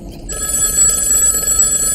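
A telephone bell ringing: a loud, continuous electric ring with bright sustained tones starting just after a brief quiet moment and holding steady to the end, no talk.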